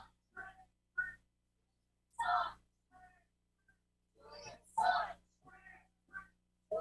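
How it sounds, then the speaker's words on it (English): Sharp, bright whistle blasts at a street protest in Washington DC, several short bursts in an irregular run, with crowd voices and chanting mixed around them. "And the whistle."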